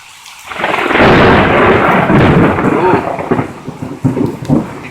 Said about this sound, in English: That's Florida Thunder for you,